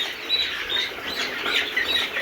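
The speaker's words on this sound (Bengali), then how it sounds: "সকল বয়সের ফার্মি মুরগি আমাদের এখানে পাবেন।" Egyptian Fayoumi chickens on a large poultry farm give a steady, close chorus of clucks and chirpy calls, with no voices over them.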